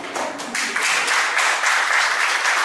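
Audience applause breaks out right after an entrepreneurial pitch, a steady wash of many hands clapping close by that swells slightly and holds for a few seconds.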